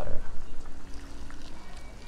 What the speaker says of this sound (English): I'm gonna add the rest of the water.